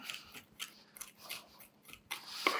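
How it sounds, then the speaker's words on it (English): Gritty crunching and scraping in irregular bursts, close and fairly quiet, as a knife blade presses and grinds garlic with salt against a board. "that's the garlic starting to crush with the salt"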